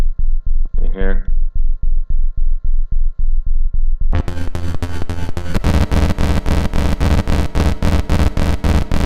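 A very low sub-bass synth plugin in Band-in-a-Box throbs in steady repeated pulses under a faint hum, then fuller, brighter rhythmic synth notes come in partway through, loud and close.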